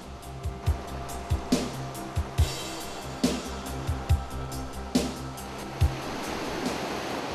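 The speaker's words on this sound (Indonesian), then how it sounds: "Jeram utama di ruas awal sungai ini adalah jeram Little Budil." Rapids on the Progo river rush with a steady, broad roar of churning water, punctuated by recurring thumps and splashes as water hits rock or a boat.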